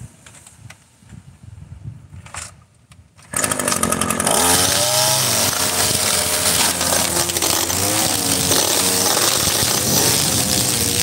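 A string trimmer fitted with a new trimmer head starts up after a quiet moment and runs loud and steady, its engine whine rising and falling slightly, close by and alone for the rest of the stretch.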